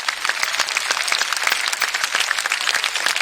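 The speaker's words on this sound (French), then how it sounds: "un public synthétique vient de vous applaudir en direct" Synthetic audience applause sound effect triggered during a live online improv chat show, a steady dense wash of clapping filling the whole stretch at an even level with no voices over it.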